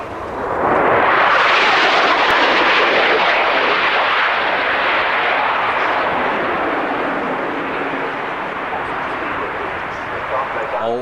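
A Jaguar jet performing an airshow display at Coningsby in 1993 makes a loud, sustained roar that swells in within the first second and holds steady, broadband and powerful, with only slight easing toward the end.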